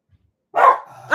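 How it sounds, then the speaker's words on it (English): A pet dog at home barks once close and loud, a short sharp bark after a moment of silence, then starts another bark at the very end. "My dogs are going to bark here."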